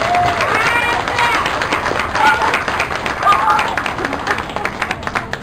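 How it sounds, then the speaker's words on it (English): Audience applause at a dog park award event, a dense, steady patter of clapping from a crowd that continues throughout with some voices mixed in. "Let's give them a big round of applause."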